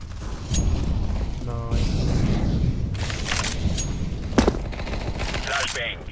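P90 submachine gun fire in a shooter video game, rapid bursts of shots under a busy game mix with mechanical clicks, while players talk over it.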